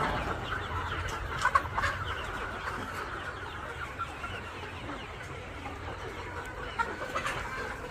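Many chickens cluck steadily inside a poultry house, a dense, continuous flock chatter at moderate loudness with occasional sharper calls, and no talk.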